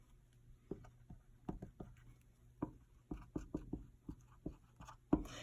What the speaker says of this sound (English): start writing multiples of it